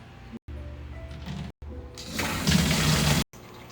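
An aquarium tank being refilled with water after a partial drain, a steady pouring and gushing fill that swells louder toward the end, broken by a few brief cuts of silence.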